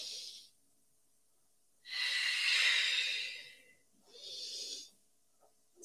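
Forceful breathing exhalations during a gentle mobility and flow exercise session, with two long breathy rushes of air and fainter ones around them, close and clear with no talk.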